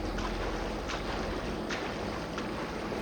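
A boat in Far Cry 6 heads across open water toward a ship, a steady wash of engine and water noise with airy wind running throughout, no voices.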